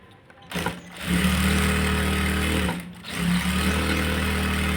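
Sewing machine stitching the side joint of a blouse, a steady motorized hum running in two long bursts with a brief pause between them, close and fairly loud, with no talking.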